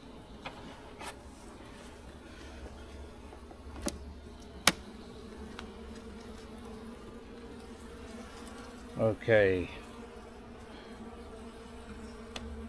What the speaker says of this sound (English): I can hear bees, so that's a good sign